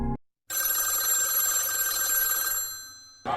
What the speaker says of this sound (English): you wait and wait anxiously by the phone. Then it rings.